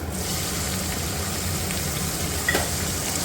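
Tomatoes sauté in a hot pan with garlic and curry leaves for a Gujarati vagharelo rotlo dish, giving a steady, close sizzle throughout with a brief stir near the end.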